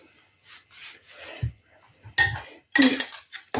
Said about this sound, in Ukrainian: І це гарненько зараз отак теж перемішаю